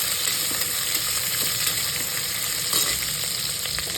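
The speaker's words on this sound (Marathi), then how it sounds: "उभा चिरलेला कांदा उभा चिरून घेतलाय मी तो टाकायचा मिक्स करून घ्यायचं" Lengthwise-sliced onion fries in a pan for a soybean pulao, giving a dense, continuous sizzle with soft scraping stirs throughout and a slightly louder stir near the end; no one speaks.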